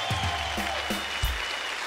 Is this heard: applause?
yes